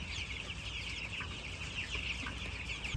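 Young broiler chicks in a new brooder setup on an organic farm, continuous high peeping and cheeping from many birds together, moderately loud and steady throughout.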